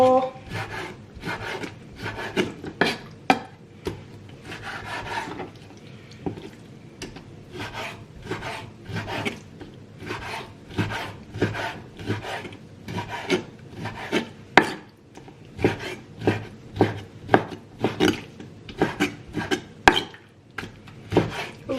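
Steady rapid knife chopping and slicing of soft fish on a board for fish balls, many close strikes with a scraping edge, continuing throughout without speech.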